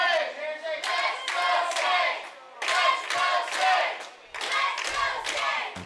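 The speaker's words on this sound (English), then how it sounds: "The crowd cheering for Sage Coburn there." A wrestling crowd at a live indoor match cheers and claps in loud surging waves that break off briefly and swell again several times.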